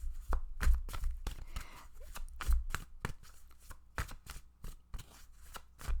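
Playing cards are shuffled during a card reading, giving a run of sharp riffling bursts roughly every half second, close and fairly loud, with no talking.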